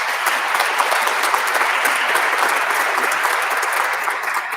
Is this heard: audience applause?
yes